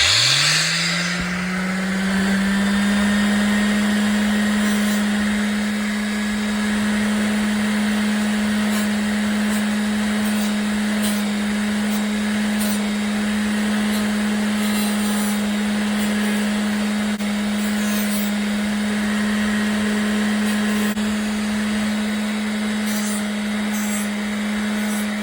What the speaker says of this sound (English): this one's gonna be really scary to sand